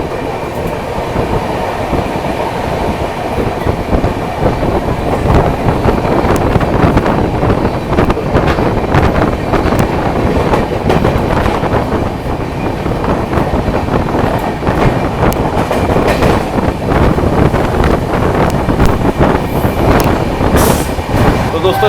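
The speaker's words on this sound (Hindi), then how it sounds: "बाकी दिल्ली कानपुर वाले रूट पर अपनी ट्रेन चली रही है" An express train runs on the Delhi–Kanpur route, a loud continuous rumble and rattle of carriages with wind buffeting and faint clickety-clack throughout, heard from on board.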